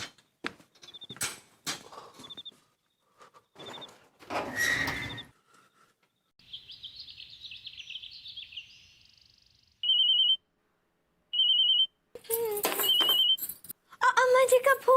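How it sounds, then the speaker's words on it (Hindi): A phone rings in a household scene, with short repeated electronic chirps of ringtone in bursts between clatter, movement and brief voices. "अम्मा जी का फोन।"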